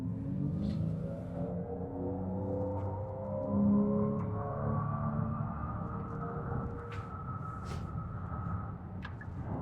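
Kia EV9 electric car braking, heard as a soft, low hum whose tone glides steadily upward over several seconds, faint and continuous inside the cabin with a few light clicks and no talk.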